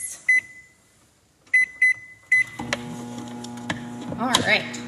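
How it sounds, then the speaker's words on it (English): A microwave oven with a Tupperware microwave pressure cooker inside gives a few short beeps as buttons are pressed, then starts a steady low electrical hum with a brief clatter near the end. "I think we should pop these into the microwave."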